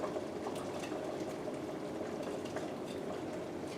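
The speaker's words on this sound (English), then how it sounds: "So we're going to stir this up a little bit." Thick chili con carne simmers and is stirred in a pot, giving a steady close bubbling, wet churning sound with no voices.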